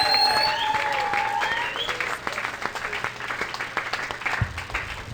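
Congregation applauding in church during a sunrise service, a sustained burst of many hands clapping that fades from full to scattered claps, with voices crying out over the start.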